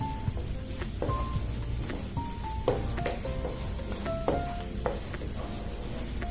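Garlic and bay leaves sauté in a pan for Spanish bacalao, a steady close sizzle with occasional utensil clicks, while soft music plays in the background.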